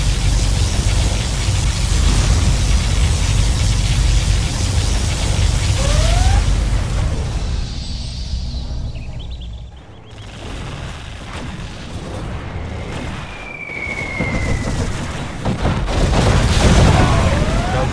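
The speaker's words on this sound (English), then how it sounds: "Now those are cluster bombs." Heavy rumbling cluster bomb blasts and crackling bursts in the video game C&C Generals Zero Hour roll one after another over a noisy battle din, fading briefly before swelling again.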